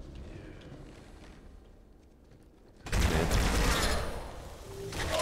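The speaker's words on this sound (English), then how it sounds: "There's multiple explosions that went like a chain reaction and sent you flying into the sky." In Halo 2 gameplay, a sudden burst of chained grenade explosions erupts after a quieter stretch, a loud, dense blast that stays roaring with crackling debris for a couple of seconds.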